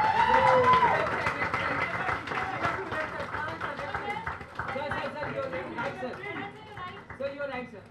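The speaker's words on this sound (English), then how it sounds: "Big round of applause, ladies and gentlemen." Audience applause at a book launch for Karan Anshuman's Kashmirnama, a steady wash of clapping and crowd chatter that continues across the whole stretch. Voices talk over it.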